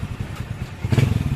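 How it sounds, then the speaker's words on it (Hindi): A Hero Splendor Plus BS6 motorcycle engine runs at a steady idle, a low thumping beat up close that grows louder and rougher near the end, with no voices. "बाइक स्टार्ट है। आप इंजन के साउंड सुन सकते हैं"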